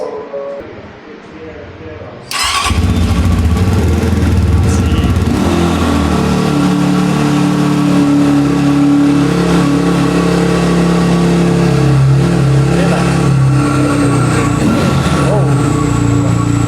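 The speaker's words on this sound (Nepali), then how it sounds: "सर एकचोटि हाम्रो यो बाइकको एक्जस्ट पनि सुनाइदिनु न हामीलाई" Cross X CX 250R dirt bike exhaust starting up abruptly and then idling and revving loudly and continuously, close by, with a voice talking over part of it.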